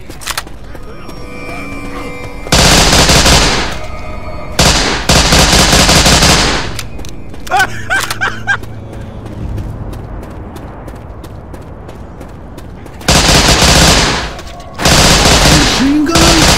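Bursts of machine gun fire in Left 4 Dead 2, loud repeated volleys at about 2.5–4 s, 5–7 s and 13–16.5 s, separated by quieter stretches with faint voices.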